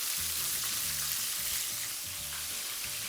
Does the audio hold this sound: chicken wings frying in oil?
yes